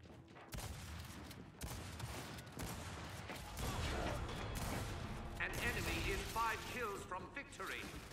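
Retro Lancer rifle fire in Gears 5 during a ranked Free-For-All on the Harbor map: dense, continuous bursts of automatic gunfire close by, with clattering mechanical sounds and game effects layered over it.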